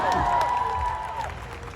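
A crowd cheers and applauds at a movie promotion event in Dubai, with a loud voice ringing out over the steady crowd noise.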